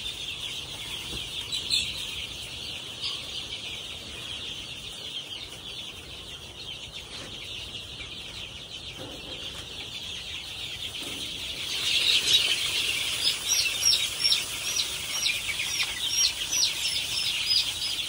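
Chickens and young chicks on a Filipino backyard farm, soft clucking and peeping blending into a steady chorus that grows louder and busier in the second half, with no talking.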